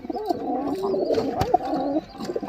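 Crested pigeons coo repeatedly at close range, soft rolling calls with a few brief pauses, and no voices.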